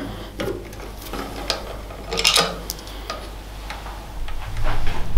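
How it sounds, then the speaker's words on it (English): Seat lock bolts on a 2021 Triumph Bonneville T120/T100 are being undone with a T27 socket, giving soft, irregular ratchet-like ticks and light metallic rubbing, close and fairly quiet. "we're just going to remove the seat locking mechanism by removing the 2 bolts"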